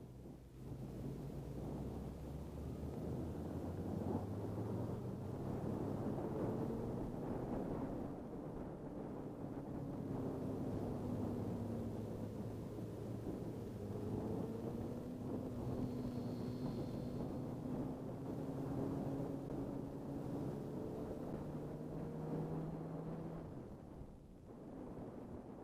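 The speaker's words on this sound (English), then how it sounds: "Just throttle a little bit and go." Suzuki Hayabusa motorcycle engine on throttle at a demo, a loud continuous rumbling roar with rising and falling tonal revving throughout, heavy and close without speech.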